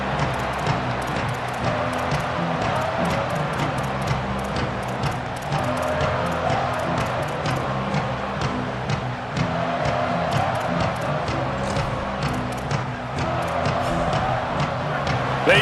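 A football stadium crowd roars steadily after a kickoff, a broad sustained wash of cheering with swells that rise and fall. The noise stays loud throughout, with a voice faintly audible beneath it.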